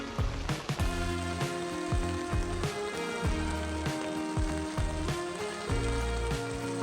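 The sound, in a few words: torrential rain downpour with thunder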